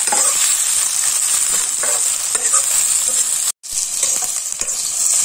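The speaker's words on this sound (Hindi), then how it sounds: "उसके बाद प्याज फ्राई हो रहा है" Onions sizzle and crackle steadily in hot oil in an iron wok, with occasional stirring scrapes in the pan, close and loud, briefly cutting out once.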